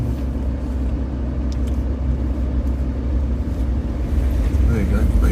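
A Transit van overtakes on a country lane in the Peak District, a steady low engine rumble and road noise that holds close throughout and swells slightly at the end.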